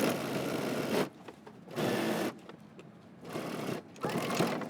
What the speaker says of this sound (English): I'm gonna back stitch when I get to my dot before I pivot